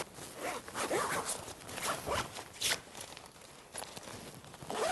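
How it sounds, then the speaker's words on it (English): Zipper drawn shut on the carry bag of an Outwell Fusion 400 tent, a steady rasping run lasting several seconds with small pauses and tugs, fairly close and moderately loud. "And then it's just a case of zipping it up."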